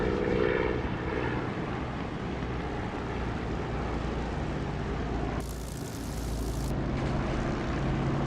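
A propeller aircraft in the DCS flight simulator lowers its landing gear over a steady, loud engine drone, and a brief rush of broadband noise swells for about a second before fading back into the hum.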